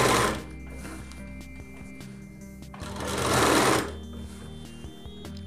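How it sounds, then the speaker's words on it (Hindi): A sewing machine stitches a folded side seam on a readymade Rajputi lehenga. Its rapid mechanical whirring runs continuously up close, with a louder surge midway and no voices. "इस तरीके से हमें सिलाई लगा देनी है ऐसे फोल्डिंग करते हुए"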